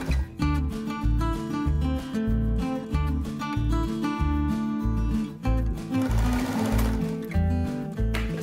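A sewing machine stitching a self-drafted pottery apron, running in loud rhythmic bursts with a steady mechanical thump of the needle, pausing briefly between runs, close and with no talking.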